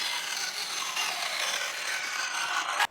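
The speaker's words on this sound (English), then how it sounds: "That I'm gonna cut on the bandsaw" A bandsaw cuts a tube for a DIY chicken feeder, a steady close hissing rasp of the blade through the material for nearly three seconds, then stopping abruptly, with no talk.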